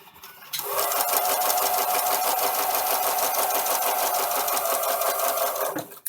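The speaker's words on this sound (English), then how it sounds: "I just finished sewing 2 seams, one directly in the center and one over in what would be the cut-off area" A sewing machine runs steadily, stitching seams through fabric as it trims cut-off corners, a loud continuous whirring hum for about five seconds that starts abruptly and stops cleanly near the end, with no talking.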